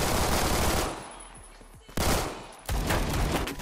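Automatic gunfire in the Roblox shooter Phantom Forces: loud, dense bursts that stop briefly, leaving a faint ringing tail, then resume in two more sustained volleys.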